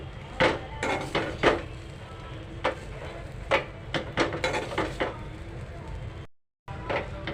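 A spoon stirs a Malvani onion and grated coconut masala in a pan, striking the metal in a run of irregular close clanks and taps over a low background hiss, with a brief silent gap near the end.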